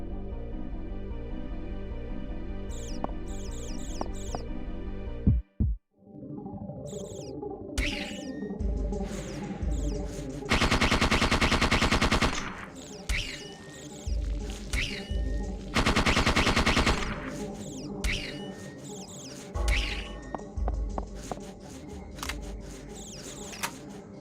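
Shooting at bats in Parasite Eve 2, with loud rapid gunfire bursts and single shots interspersed with mechanical clicks and game effects, including a sudden loud blast and sustained noisy stretches.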